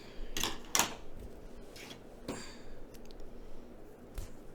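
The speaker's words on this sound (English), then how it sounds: "Scissors." Scissors snip through yarn during a crafting session, giving a few crisp, close metallic clicks spaced irregularly in a quiet room.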